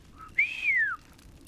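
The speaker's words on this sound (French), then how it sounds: "Un coup de sifflet pour toi." A single cartoon whistle blow: a short, bright tone followed by a longer sliding whistle that rises and then falls in pitch, heard alone and clearly.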